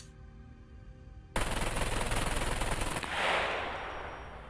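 A 9mm gun in the game SCUM fires a full magazine in one rapid, continuous burst of loud shots lasting under two seconds, followed by a fading rumble of echo.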